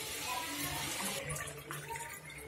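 Coconut milk poured into a pot while making chicken biryani, a steady continuous liquid splash and trickle close by that runs the whole time and tapers off at the end.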